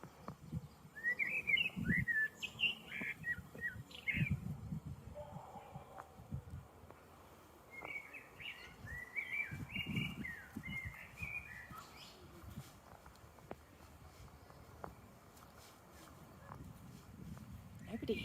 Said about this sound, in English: Lots of birds singing in here.